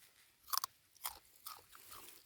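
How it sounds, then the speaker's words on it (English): Several crisp crunching bites of raw turnip close up, a couple of sharp snaps followed by softer chewing, with no talking. "So this is what I cut off from this piece, and let me taste it."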